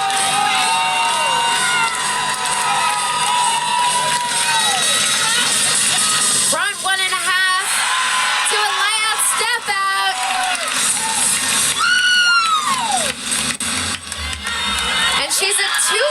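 Excited crowd at an Air Force vs Clemson women's gymnastics meet cheers and whoops with high, rising shouts, loud and close, under an announcer talking.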